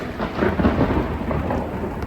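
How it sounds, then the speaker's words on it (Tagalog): Thunder rumbles low and steady through a rainy Hong Kong morning, a broad rolling roar with rain hiss underneath, continuous and moderately loud. "May kulog kidlat guys."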